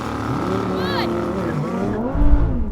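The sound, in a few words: Lamborghini Huracan, Audi R8, Nissan GT-R drag race launch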